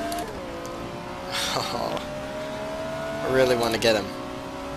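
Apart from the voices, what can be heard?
race car engine accelerating in the video game Race07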